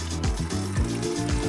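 Water gurgles and bubbles from a rain barrel through a garden hose under gravity feed, a soft irregular flow with repeated low glugging pulses.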